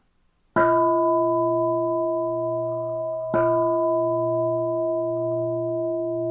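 A bell rings at the start of a Sunday church service, struck twice about three seconds apart, each strike ringing with a clear, sustained tone that decays slowly in a quiet room.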